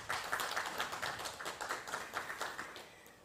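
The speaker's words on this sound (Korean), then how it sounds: "오성배 부단장님께 다시 한번 큰 박수 부탁드리겠습니다" Scattered clapping from an audience at a Korean school project briefing on green smart future schools, a quick run of fairly even claps at moderate distance, soft overall and thinning slightly toward the end.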